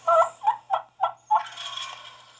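Wild turkey gobbling during a hunt, a loud close series of five rapid rattling gobble notes followed by a trailing, fainter warble, heard alone against quiet woods.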